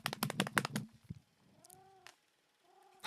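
An indoor house cat makes a few soft vocal sounds after a rapid burst of tapping and clicking. Two brief rising mew-like tones come up quietly near the middle and at the end.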